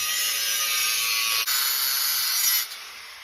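Sheet metal repair piece for rust repair on a Honda Civic being cut with a power tool, a steady high-pitched grinding whine held close, briefly dipping twice and easing off at the end, no talking.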